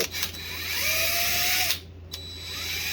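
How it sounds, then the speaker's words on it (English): A number 21 screw machine drill bit bores into metal during rear axle work, a steady close whirring grind that rises slightly in pitch, briefly cuts out, then resumes, with no talk. "So that's a number 21 for a 1032 drill."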